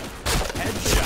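A short burst of rapid gunfire rings out in a shooter video game, loud and dense across the whole second, with no clear gaps between the shots.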